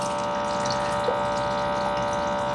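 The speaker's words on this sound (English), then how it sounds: "There's a lot of water that's kind of splashing up" Water splashes steadily inside the reservoir of a LetPot LPH Max hydroponic grow unit. A constant pump-like hum sits under the continuous splashing, with one brief brighter splash midway and no speech.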